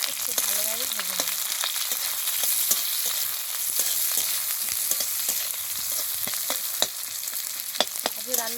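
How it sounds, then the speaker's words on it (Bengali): Chopped onions and chillies fry in a hot tempering of oil for a jute-leaf dish with fish roe. A busy, close sizzle runs throughout, broken by frequent sharp scraping and stirring clicks and brief clatters, with no talking. "এবার এর ওপর দিয়ে দেবো পেঁয়াজ কুচি আর কিছুটা লঙ্কা। এবার এগুলোকে খুব ভালোভাবে ভেজে নেব।"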